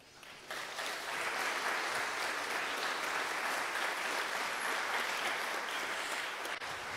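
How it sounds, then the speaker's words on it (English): A large audience applauds Amanda Feist at a digital inclusion conference plenary, a dense, sustained wash of many hands clapping at a steady level for several seconds, with no talking over it. "we need to give a huge round of applause to Amanda Feist."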